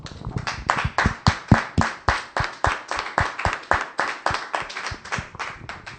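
An audience in a church hall claps in unison to praise the Lord, steady rhythmic hand claps of roughly four per second, close and fairly loud, with no talking.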